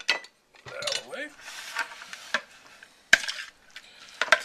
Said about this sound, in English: Mix the cucumber in with the yogurt